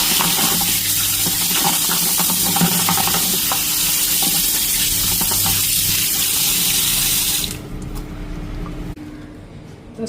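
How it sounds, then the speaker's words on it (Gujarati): Okra being washed under a running kitchen tap, a loud steady rush of water with splashing that drops off sharply near the end as the flow stops. "ભીંડા છે એમ ધોઈ નાખીએ"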